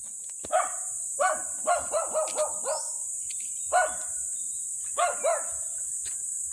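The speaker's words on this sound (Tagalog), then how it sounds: "may matapang na aso" A dog barks in quick bursts of two to five, pausing between volleys, over a constant high whine of insects.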